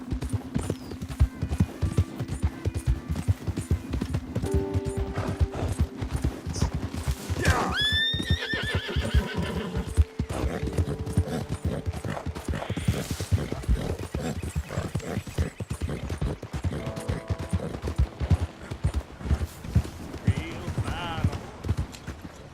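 A horse in Red Dead Redemption 2 gallops with steady pounding hoofbeats and lets out a loud whinny partway through, alongside game ambience and occasional voices.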